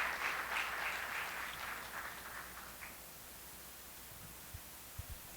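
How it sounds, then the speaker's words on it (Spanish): Audience applause for a presenter at a criminal procedure law panel, steady broadband clapping over the first three seconds that fades into quiet room noise with a few faint knocks. "Le damos un fuerte aplauso al expositor Jerónimo Emilio Mejía"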